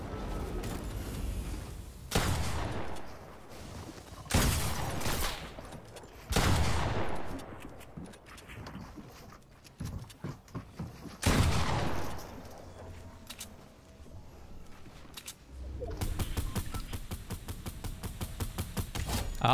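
Video game gunfire in Fortnite comes in repeated bursts of rapid shots and booms, some close and loud, others quieter, separated by brief lulls, with a steady burst of automatic fire near the end.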